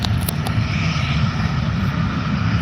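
Jetstar Australia airliner taking off on a New Year's morning, a steady, loud broadband jet roar with a heavy low rumble, continuous throughout and without talk.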